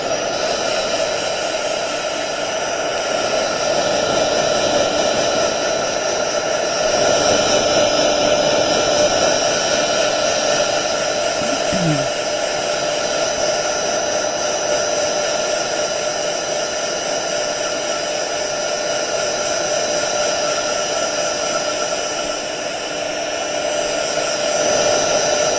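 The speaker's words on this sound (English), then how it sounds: "I'm going to put the dryer on." A hair dryer blows loudly and continuously on a craft project, a steady whooshing roar with a constant motor hum and no talking.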